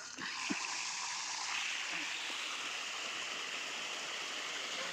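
Water released from a tank runs into a field channel as a faint, steady rushing flow that continues throughout.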